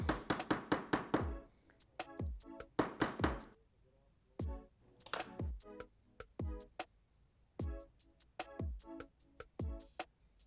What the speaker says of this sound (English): we're going to use a roll punch pin to make everything flush on the frame.